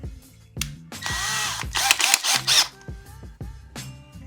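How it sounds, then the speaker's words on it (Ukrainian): A power drill bores into a hard stone wall while a new room is being fitted out, with several short close bursts that rise into a loud, steady whine in the middle and then drop off again, with no talking. "Зараз буду брати цей менше, Зараз просверлю."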